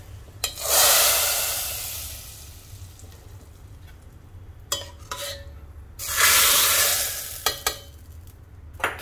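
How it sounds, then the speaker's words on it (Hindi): Garlic tadka poured into a mix of toor and masoor dal gives two loud hissing sizzles, each swelling then fading over a couple of seconds, with light stirring and utensil clinks between them; no one speaks. "और जो ये तड़का हमारा तैयार हो गया है ये हम दाल में डाल देंगे।"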